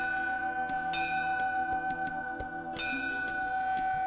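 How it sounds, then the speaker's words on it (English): Bell rung inside a Hindu temple, a sustained bright ringing with clustered strikes repeating through the clip, steady and fairly loud, with no talk. "Hindus ring a bell to announce their presence."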